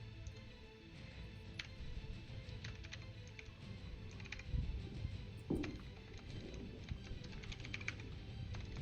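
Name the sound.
typing on a computer keyboard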